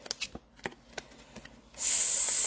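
A deck of playing cards is shuffled close up, a run of soft riffling clicks and flicks followed by a denser, loud bridging rush at the end, with no talking.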